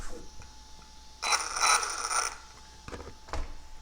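Metal gears of an Arrma Typhon 6S RC car whir and rattle in a loud mechanical burst lasting about a second, followed by a couple of shorter clicking bursts.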